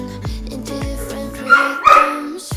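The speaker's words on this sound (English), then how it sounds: "I apologize if you can hear him barking in the background." A dog barks indoors in a home during couch cleaning, a couple of short yips and barks close by, mixed with a whimpering tone and other background sounds.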